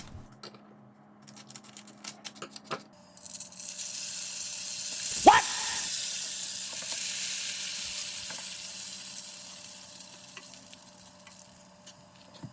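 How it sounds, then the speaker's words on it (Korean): Rice paper hits hot oil with a sharp crackle that swells into a loud, steady sizzle of deep frying, with a few clicks and taps beforehand. "남은 기름으로 튀기면 훌륭한 스낵이 됩니다"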